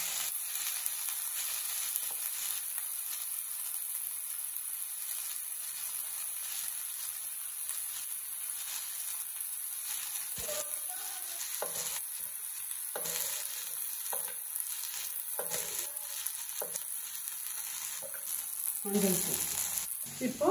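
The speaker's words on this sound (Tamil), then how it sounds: "இப்போ இந்த மசாலா எல்லாத்தையும் நல்லா வதக்கி விட்டுறலாம்" Mutton masala and coriander powder sautéing in a hot pan give a steady, close sizzle throughout, with scraping stirring strokes in the second half and no talk over it.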